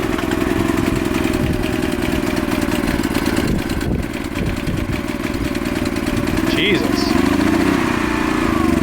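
Old junkyard 1970 engine with the choke on, cranking and running with uneven revving bursts and a steady rough idle, loud and close, with people talking over it.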